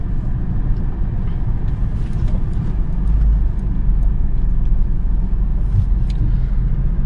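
A car engine idling in neutral while stopped in traffic, a steady low rumble that holds close and even throughout with no revving.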